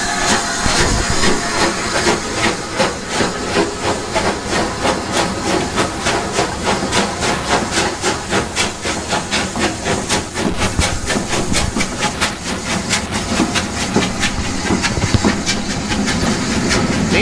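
Two steam locomotives slowly gather speed leaving Horsted Keynes station, loud rhythmic chuffing exhausts with steady hissing steam and rail clatter, continuous and close throughout.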